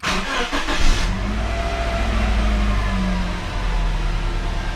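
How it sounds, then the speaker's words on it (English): A car engine starts up after an oil change, with a brief crank that turns into a steady mid-pitched idle, close and loud, with no talk over it. "So we're gonna start the car up."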